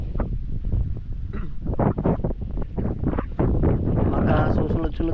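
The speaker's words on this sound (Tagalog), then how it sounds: "Lakas pa naman ang hangin" Strong wind blows over an open hillside clearing and buffets the microphone in low, rough gusts under someone talking nearby.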